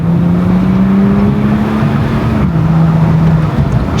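A BMW X1 with an N55 turbo engine drones loudly from close by under hard acceleration, its pitch rising and then dropping with a gear shift partway through. No talk.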